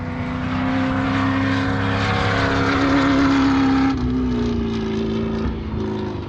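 A desert race vehicle on its second lap roars past with a loud, sustained engine drone that falls in pitch partway through as it goes by, alone and without voices.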